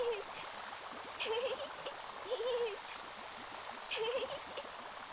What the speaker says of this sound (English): Spraying Beamo with the soap gun,